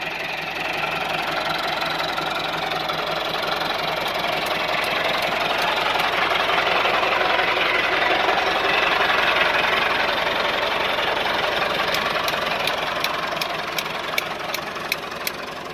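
A 2010 Massey Ferguson 385 tractor with a Delphi pump sits idling nearby, its diesel engine giving a steady, even rumble with a faint knocking beat, loud and constant for the whole stretch.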